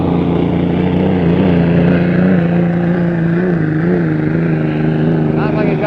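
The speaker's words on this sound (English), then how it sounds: "Sounds like he's got a tough engine." A loud, droning racing hydroplane engine roars steadily at the 1959 Gold Cup race in Seattle, its pitch wavering slightly as it runs at speed.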